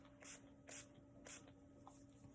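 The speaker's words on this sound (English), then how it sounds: "spray a little bit and it's a light mist" Several short soft bursts of a NYX First Base primer spray misting, about four quick hissy puffs spaced under half a second apart, close and fairly quiet with no talking.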